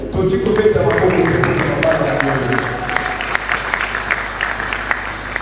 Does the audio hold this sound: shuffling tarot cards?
no